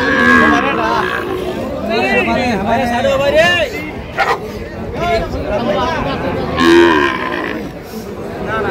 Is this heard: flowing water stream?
no